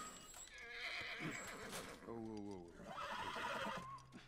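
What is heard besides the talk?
horse neighing in a video game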